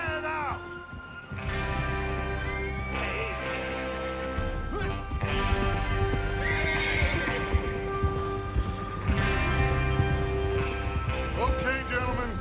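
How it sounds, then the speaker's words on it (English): Horses in the Red Dead Redemption II video game, with hooves clip-clopping and a few neighs under a steady, loud in-game soundtrack and ambience lasting throughout. "Get your horses ready."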